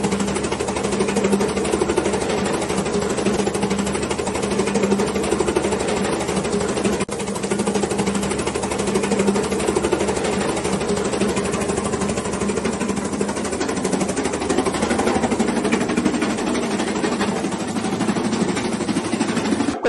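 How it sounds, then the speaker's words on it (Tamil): A fodder shredder and chaff cutter machine runs steadily, giving a loud, continuous mechanical drone with a rapid rattling vibration that holds unbroken throughout. "ஷேடர் பிளஸ் சாப் கட்டர்னு சொல்லிக்கலாம்."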